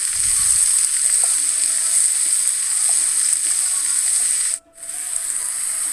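Washed, chopped mushrooms are stirred into onions in a hot pan, giving a continuous loud sizzle and frying hiss with faint scraping, briefly dipping as the pan is disturbed near the end.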